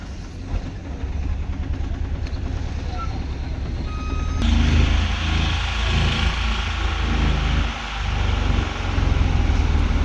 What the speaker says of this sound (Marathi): आपण टेम्पोमध्ये आहे बघा, टेम्पो केला इकडनं.